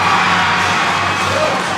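Basketball crowd at a high school game roaring and cheering after a steal, a steady loud wash of voices and whoops that holds for the whole moment.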